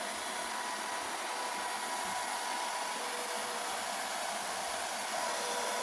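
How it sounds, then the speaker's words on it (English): A blow dryer drying a dog roars continuously at close range, a steady, loud hiss of rushing air with no pauses. "You can turn off the blow dryer"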